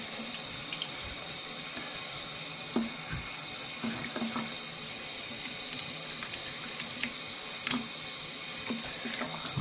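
Water runs steadily from a bathroom tap into a freshly cleared sink and drains away, a constant close hiss and gurgle with a few small splashes and clinks, no voices.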